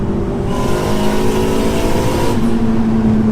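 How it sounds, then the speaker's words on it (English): A modified 500 bhp Honda Civic Type R engine revs loudly, then its pitch drops as it downshifts with a quick auto-blip of the throttle, heard up close. "And then that's the auto blip on the way down."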